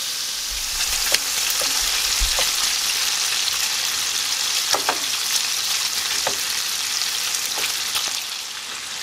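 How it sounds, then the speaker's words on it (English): Bacon frying over medium heat in a pan, a continuous close hiss of crackling fat with scattered sharp pops and spits throughout, no voices. "So I'm gonna cook these for a little bit on a medium heat just so we can get all the nice"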